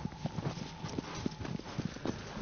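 Horse hooves clip-clopping at a walk in the video game Shadow of the Colossus, an even run of moderate hoofbeats over a soft ambient hum, alone without talk.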